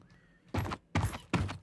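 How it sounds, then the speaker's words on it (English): Enemy footsteps in an Unreal Engine 4 first-person shooter game, three distinct heavy steps in a slow even rhythm, close and loud against near silence. "Footsteps."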